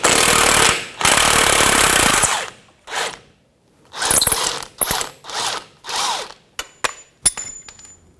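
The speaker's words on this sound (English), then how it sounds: "I'm going to use 1/2-inch drive and pull that bolt out" Half-inch-drive ratchet working loose an 18 mm pinch bolt on a 2007-2017 Jeep Patriot front knuckle: long loud bursts of rapid pawl clicking, then shorter separate ratcheting runs with pauses and a few sharp metallic clinks, no talking.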